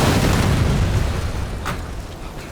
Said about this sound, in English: Why'd you run over the exploding zombies?